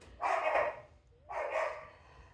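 A dog being looked after while its owners are away gives two loud, close barks about a second apart, each one a broad burst, with quiet between them.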